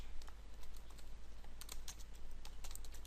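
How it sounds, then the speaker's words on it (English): Java code being typed on a computer keyboard: rapid, uneven clicks of keys pressed close by, a steady run of light taps over a low background hum. "So we can type system dot out dot print"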